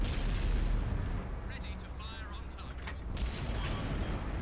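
Tank cannon fire from World of Tanks console, a Chieftain Mk. 6 battle with shots traded against an E5, booming loud and dense throughout, with a brief lull in the middle and a voice talking over it.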